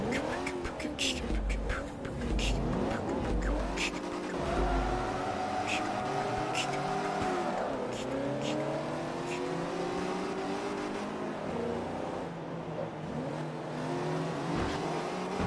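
Race cars in the Forza Motorsport 3 video game roar and rev continuously, with engine pitch rising and falling through gear changes and occasional tire squeal, loud and sustained throughout.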